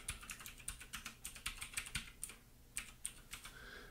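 A username and password go in on a computer keyboard at an Ubuntu server login: quick irregular bursts of close, crisp key clicks with short pauses and no voices.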